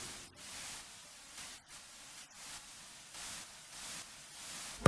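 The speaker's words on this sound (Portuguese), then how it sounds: "Um ruído branco pra todo mundo." Soft, steady white-noise hiss within a song, a faint broadband wash that swells and dips gently, broken by a few brief dropouts.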